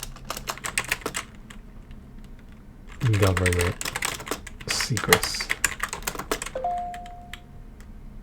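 Keys clatter on a computer keyboard in quick bursts of typing between stretches of a person talking, the clicks close and crisp, ending with a short electronic tone.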